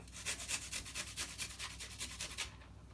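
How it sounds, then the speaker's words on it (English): Garlic cubes are grated by hand for a curried seafood dish, a quick, rhythmic series of soft rasping strokes close by that ends after a few seconds. "Just gonna grate in 4 cubes of garlic."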